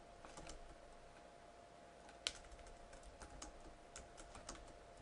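Typing on a computer keyboard while entering statistics test names: quiet, steady clicking keystrokes in irregular bursts, close-up, with one sharper tap partway through and no voices.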